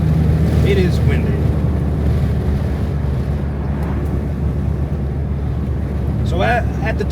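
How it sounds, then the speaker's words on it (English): Wind buffets a microphone outdoors beside a tuned, catless BMW X3 M with an S58 engine, a constant low rushing roar with a soft vehicle hum underneath and a few brief voice-like chirps. "It is windy."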